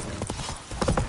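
Hooves of Roach, the horse in the video game Witcher 3, clip-clopping in a quick uneven trot, close and fairly loud over a steady background bed.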